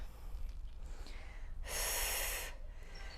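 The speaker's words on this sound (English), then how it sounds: "Breathing out." A single forceful exhale during a butt and abs band exercise class, a broad rushing breath lasting under a second, close and fairly loud over a low background hum.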